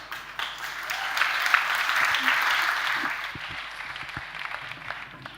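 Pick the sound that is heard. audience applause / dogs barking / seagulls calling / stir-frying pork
audience applause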